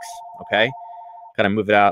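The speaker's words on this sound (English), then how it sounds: "I apologize for that phone. It's on the other side," A telephone rings elsewhere in the room with a steady, pulsing electronic tone that stops partway through, while someone talks over it.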